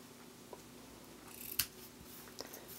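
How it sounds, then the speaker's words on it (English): Scissors trim the ribbon tails on a handmade card: a few quiet, close snips, with one crisper cut standing out in the middle. "then just finish off the ribbon by trimming the tails."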